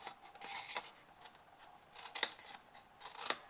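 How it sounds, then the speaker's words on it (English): Scissors snipping corner squares from card for a Christmas gift box: quiet, close snips and rustles in an irregular run, with a few sharper cuts near the middle and end. "We're going to cut these corner squares"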